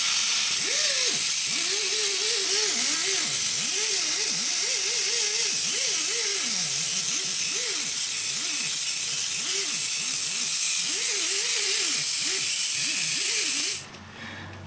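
Water spraying in a steady hiss to rinse off a Chrysler Caravan / Town & Country engine near the lower intake manifold, where coolant had leaked; the spray runs continuously and close, with a faint whine wavering underneath, then cuts off at the end.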